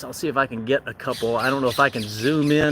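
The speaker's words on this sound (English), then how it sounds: "What you hear is some of the parrots." Parrots squawk from a botanical garden below a Jerusalem overlook, loud harsh calls mixing with someone talking close by throughout.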